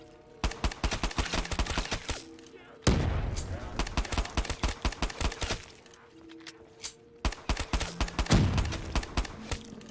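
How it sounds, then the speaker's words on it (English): Rapid gunfire from a pistol and other weapons as zombies are shot in Black Ops 3 custom zombies on a Minecraft-style map, in repeated dense bursts of sharp shots with a few heavier booming hits, loud and close throughout. "Just shooting all of them. So I can get points."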